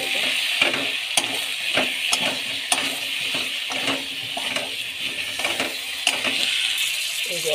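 Ginger garlic paste with cumin and chili powder sizzling in a pan while being stirred, a steady frying hiss broken by scraping spoon strokes, with someone speaking over it.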